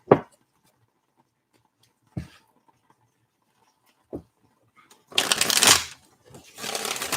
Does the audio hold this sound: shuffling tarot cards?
yes